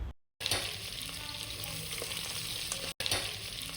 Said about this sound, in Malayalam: നമ്മൾ കട്ട് ചെയ്തെടുത്ത സവാള ചേർത്ത് കൊടുത്ത് നന്നായിട്ട് അതൊന്ന് വഴറ്റിയെടുക്കാം